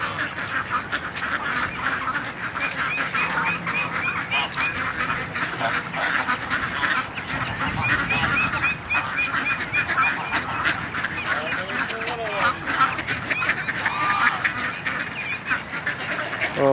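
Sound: greylag geese and mallard ducks

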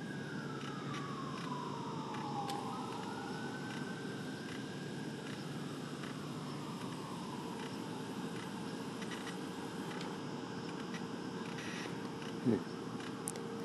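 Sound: distant emergency sirens

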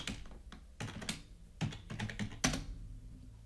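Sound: typing a password on a computer keyboard

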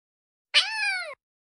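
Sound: cat meowing

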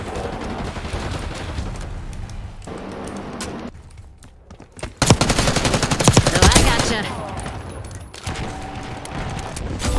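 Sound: shotgun fire in Black Ops 6 video game

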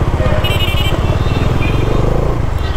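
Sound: Bajaj Dominar 400 2022 motorcycle twin-barrel exhaust while riding

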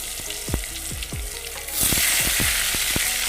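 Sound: frying eggplant in hot oil

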